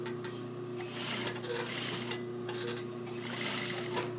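A sewing machine running a straight stay stitch without backstitching, a fast even mechanical whir with light rhythmic clatter held steady and close throughout.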